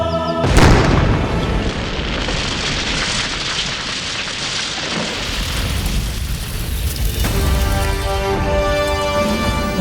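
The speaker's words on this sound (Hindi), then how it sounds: "इस मोती से विस्फोट करके आप उन पर आक्रमण कर सकते हैं" A magic pearl explodes with a sudden loud boom, followed by a long crackling, rain-like sizzle of scattering debris that fades into a ringing shimmer.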